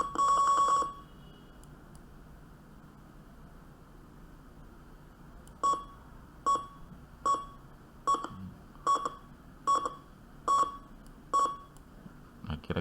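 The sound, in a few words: buzzer beeping from HC-SR04 ultrasonic parking sensor simulation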